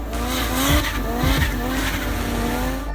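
A car doing skids at a drag racing event, with loud continuous tire squeal over a roaring engine, close by.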